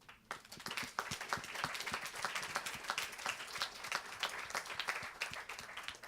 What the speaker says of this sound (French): je tiens aussi à ce qu'on les remercie et qu'on les applaudisse